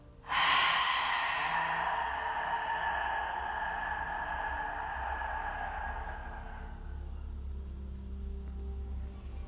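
A long, audible exhaled breath during a yoga session begins with a sudden rush of air, then fades slowly over several seconds into quiet room tone.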